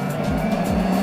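A cartoon super car revs and speeds off down a time-space racetrack, with a short, loud burst of engine roar and rising swooshes sweeping past, and no talk.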